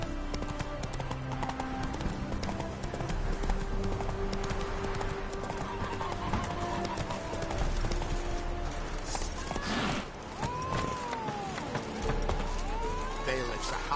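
Horse hooves clip-clopping at a steady gallop in The Witcher 3, loud and rhythmic, with a brief whinny near the end and speech over parts of the run.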